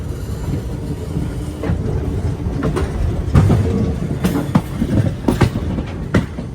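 A train running along the junction line near Tirupati, with a continuous rumble and rhythmic clickety-clack of wheels over rail joints, close and fairly loud, with sharp metallic clanks scattered through.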